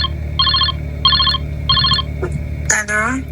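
A phone ringback tone on an outgoing call to a friend, with three evenly spaced double-pulse rings, then a voice answering at the end over steady room noise.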